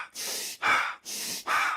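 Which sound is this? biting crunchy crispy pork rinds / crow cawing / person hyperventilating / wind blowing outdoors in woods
person hyperventilating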